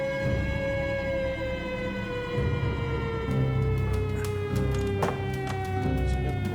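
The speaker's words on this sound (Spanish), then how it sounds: "las sirenas del diario Crítica resuenan victoriosas." Sirens of the newspaper Crítica sounding over Casa de Gobierno during the 1930 coup: a loud, sustained wailing tone that slowly falls in pitch, layered over a steady low rumble, with no talk.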